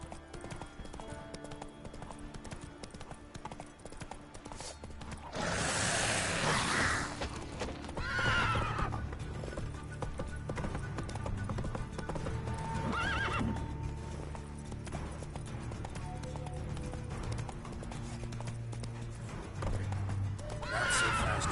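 Roach, a horse in The Witcher 3, gallops with rhythmic hoofbeats and lets out loud, shrill neighs, two whinnies standing out over the steady clip-clop of hooves.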